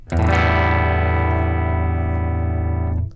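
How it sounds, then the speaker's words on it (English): A sustained, distorted electric guitar chord on the bridge pickup rings out bright and twangy, held for about three seconds before cutting off, with no talking. "When it's in this position, it's just the bridge pickup,"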